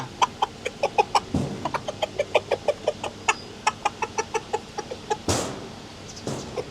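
A rooster calls to its hens with a rapid series of short, sharp clucks in a steady rhythm, close by, with a couple of brief rustles in between.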